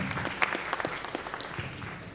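Audience applause at a forum on Peruvian maritime delimitation, honoring a speaker. Dense, steady clapping with sharper individual claps, moderately near and alone without talk.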